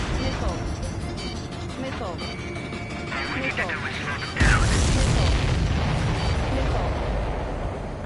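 Explosions rumble and boom in the video game Ace Combat 7, with a sudden loud blast near the middle followed by sustained heavy rumbling, mixed with game voices and mechanical noise.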